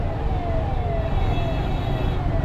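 An ambulance siren wails amid congested night traffic in Mumbai, its tone sweeping downward in a repeating cycle over a steady rumble of engines and road noise.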